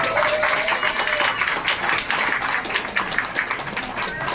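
Audience at a Tamil community event in Jeddah clapping along, a dense, continuous patter of many hands at fairly close range, with some crowd noise mixed in.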